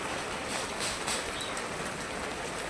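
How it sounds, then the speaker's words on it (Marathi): Heavy rain falls steadily, a dense continuous hiss without breaks, close and fairly loud, with no voices. "पण पाऊस चालू आहे भरपूर"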